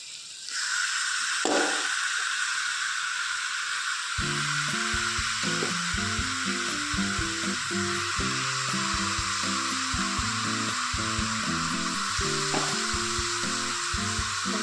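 One kilogram of chicken pieces sizzles in a pan for chicken gravy, a continuous hissing fry that starts after a short lull, with melodic background music playing over it and no talk.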